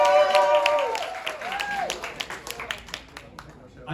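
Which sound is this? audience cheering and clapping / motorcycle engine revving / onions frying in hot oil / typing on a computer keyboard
audience cheering and clapping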